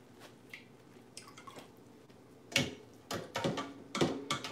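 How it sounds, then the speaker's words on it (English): Homemade Jamaican sorrel drink is strained, giving soft scattered drips and wet squishes that grow into louder splashy bursts toward the end, close and quiet with no voices. "we're straining the sorrel."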